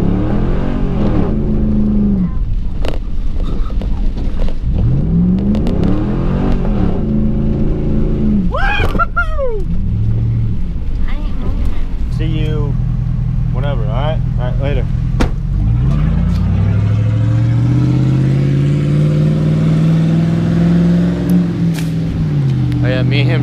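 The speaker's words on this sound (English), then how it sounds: "I'm in a truck" A truck's engine rising and falling through repeated revs while driving, loud and close, with people talking over it at times.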